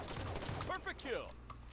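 Rapid bursts of gunfire from a Halo 5 free-for-all match, a dense clatter of shots in the first half that thins out, with brief voice-like sounds mixed in toward the end.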